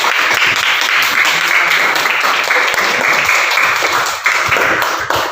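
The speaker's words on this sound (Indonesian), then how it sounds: "Tepuk tangan untuk semua." A classroom of students claps together in sustained, steady applause that fills the room, with a few voices mixed in beneath the clapping.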